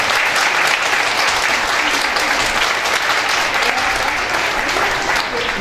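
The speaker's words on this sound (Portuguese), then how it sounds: "vamos dar uma salva de palmas." An audience at a women's union gathering applauds, with a dense, steady patter of many hands clapping at once that stays loud and even throughout.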